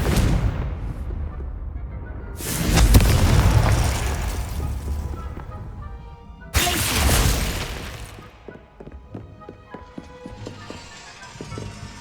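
Confringo spell cast in Hogwarts Legacy, bursting in two loud, booming explosions with rumbling tails, followed by scattered clattering and crackling debris sounds.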